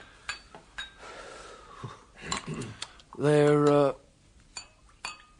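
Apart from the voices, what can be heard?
glasses clinking while serving Calvados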